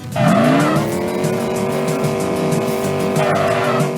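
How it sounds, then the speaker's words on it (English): Engine of a car driven by a bear in a simulation video game, a loud, steady revving drone with a rising whine at the start and tire-squeal-like tones. "the most realistic simulation of a bear driving a car"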